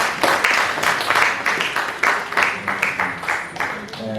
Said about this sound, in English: Oh, clap for yourselves.